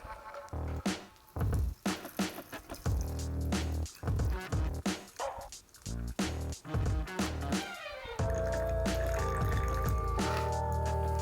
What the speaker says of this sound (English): Strain everything into a highball glass that's filled with ice.